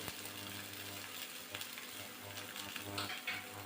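An egg frying in a pan with chopped onion and chili, a steady close hiss of sizzling oil running throughout, with faint clinks of stirring and no talk over it.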